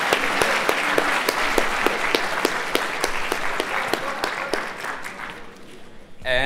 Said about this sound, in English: can we get a round of applause for both the poets, the organizers, and the audience